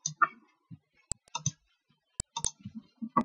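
A computer mouse clicking a few times, sharp isolated clicks spaced irregularly, close and fairly quiet, mixed with other small desk noises and soft handling sounds.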